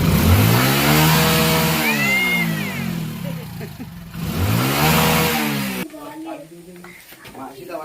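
A car engine revs as it is driven, the mid-pitched drone rising and falling in two swells under talk, then cutting away to a quieter stretch.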